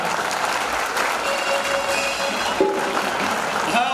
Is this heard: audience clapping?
yes